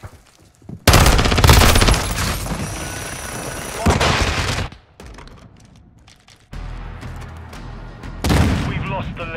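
Bursts of gunfire in Call of Duty Modern Warfare 2 multiplayer, loud automatic volleys with booms, broken by brief lulls, mixed with game voice callouts.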